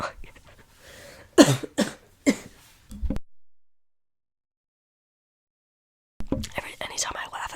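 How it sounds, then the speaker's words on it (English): A few sharp coughs close by, spread over a couple of seconds, followed by silence and then a burst of shuffling noise. "anytime I laugh at something, I've been coughing"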